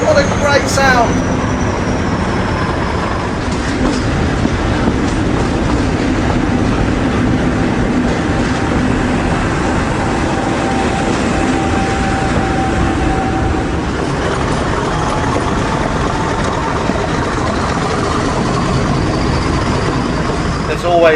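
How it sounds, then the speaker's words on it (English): A loud Class 50 diesel locomotive roars past up close at a level crossing on the Severn Valley Railway, with a heavy, sustained engine drone and rumble, a faint horn tone rising briefly in the middle. "There's always great thrash through this crossing at the Severn Valley Railway."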